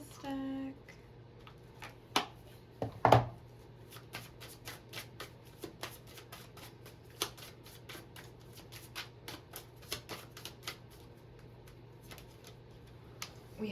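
A deck of tarot cards is shuffled close by, a loud riffle followed by a long run of soft, rhythmic card taps and flicks over a quiet background hum.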